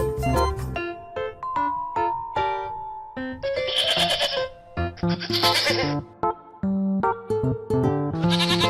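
A goat bleats repeatedly in a farm setting, loud and close, with a series of wavering, nasal cries and other farm animal calls mixed among them.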